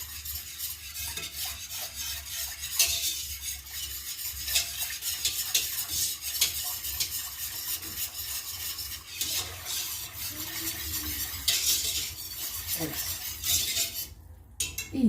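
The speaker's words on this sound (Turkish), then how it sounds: "Maya içinde sabit kalmasın diye ben şöyle çırpıcıyla çırpıyorum." A whisk beating yogurt culture into milk for homemade yogurt makes continuous rapid rhythmic clinking and swishing against the pot, close and fairly loud, with no speech.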